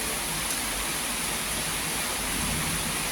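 Steady, dense morning rain in Eluru pours down without a break, a broad hiss with a low rumble underneath that may be distant thunder.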